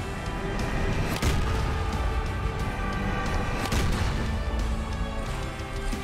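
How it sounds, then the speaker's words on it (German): Heavy cannon fire from large cannonballs in the shooter game Serious Sam 4, a dense rumbling barrage with two sharper booming impacts standing out over continuous loud battle noise. "Ich probier's mal auf Distanz mit den großen Kanonenkugeln hier."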